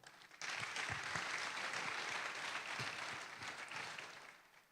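Audience applause fills a high school graduation ceremony, a dense steady clapping that starts abruptly, holds for several seconds at moderate distance and then fades slightly toward the end.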